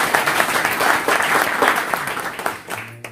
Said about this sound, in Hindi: एक ताली हो सकती।